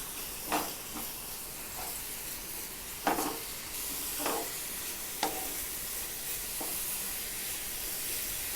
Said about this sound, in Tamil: இதை சேர்த்து அப்படி கிளறி இறக்கிக்கலாம்.